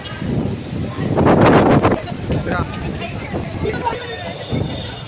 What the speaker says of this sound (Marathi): अचानक जोरदार वारा आला, एकदम जोरात, काय सुचतच नाही.